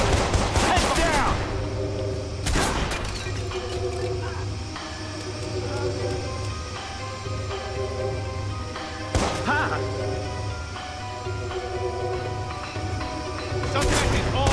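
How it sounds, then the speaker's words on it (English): Gunfire in Watch Dogs gameplay, with a few loud, sharp shot bursts spaced several seconds apart over a steady rumbling game background. "Shots fired! Shots fired! Shots fired!"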